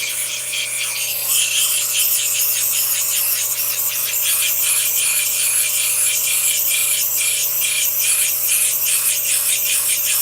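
A piece of spiderweb calcite stone is ground steadily against a wheel, giving a loud, continuous gritty rasp with a rhythmic scraping pulse from close by and no talking.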